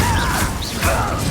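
Short burst of an Incendio fire spell cast in Hogwarts Legacy, a whooshing, crackling magical blast with a couple of rising swishes in quick succession, close and fairly loud.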